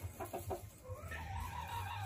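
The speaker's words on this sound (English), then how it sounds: "What's going on, chickens?" Chickens cluck softly in a short burst of rhythmic calls, followed by quieter low murmurs from the flock.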